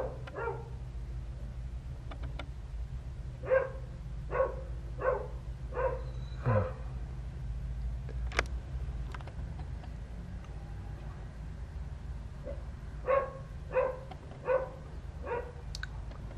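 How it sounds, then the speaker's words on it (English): A dog next door barks in short, distant bursts of several yaps, pausing between groups over a quiet low rumble of background, in a garden at Whiting Bay. "dog barking next door"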